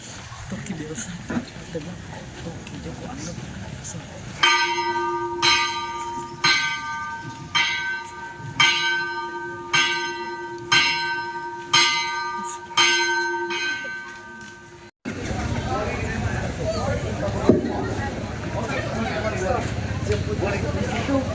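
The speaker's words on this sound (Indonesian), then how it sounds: "berkatilah lonceng baru di gereja yang akan diresmikan hari ini" A new church bell rings at a Catholic church inauguration on Bunaken Island, a steady series of about ten bright, resonant strikes close by, preceded and followed by crowd and outdoor noise.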